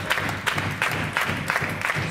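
Rhythmic handclaps from a woman wrestler rallying the crowd during a women's wrestling match, about six sharp claps at a steady beat over low arena crowd noise.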